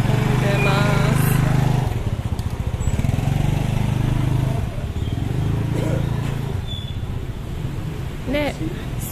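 Motorcycles crawl and idle through a crowded, congested street on Monkey Forest Street in Ubud, Bali, their engines buzzing and rising as they pass close by, with wind noise and a voice speaking over the traffic.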